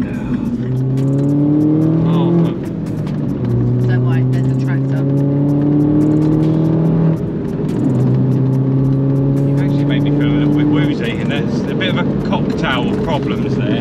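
Mini R56 JCW track car driving hard, its engine droning and climbing in pitch through several gear changes, loud and close from inside the cabin, with voices faintly underneath.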